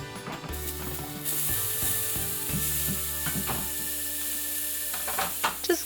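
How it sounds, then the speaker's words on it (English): Onions and garlic sauteing in canola oil in a pan, a steady close sizzle with scattered stirring scrapes and clinks throughout, no talking. "It's now time to saute my ingredients"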